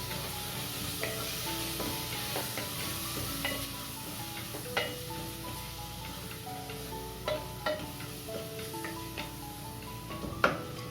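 Chili powder and garam masala being sautéed in a pan for a Kerala mutton curry: a steady low sizzle runs throughout, punctuated by scattered clinks and scrapes of a spoon stirring, close and fairly quiet, with no talking.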